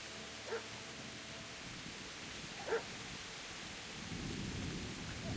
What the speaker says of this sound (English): Dog? Friendly dog? Angry dog?